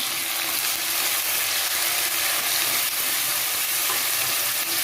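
Sautéed onions with freshly added tomato frying in a pan, a dense, even, loud sizzle that continues unbroken at close range, with no talking.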